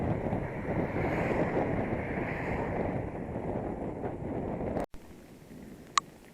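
Strong headwind buffets the microphone as a steady, loud rushing roar outdoors, then cuts off abruptly, leaving a quieter background with a brief sharp tone.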